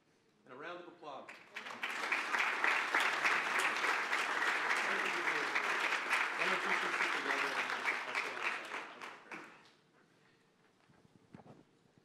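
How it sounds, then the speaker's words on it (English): Applause from an audience at a climate policy event as a governor and a New York State climate official come on stage, a sustained burst of clapping that swells, holds for about seven seconds, then fades, with faint talk after. "And a round of applause."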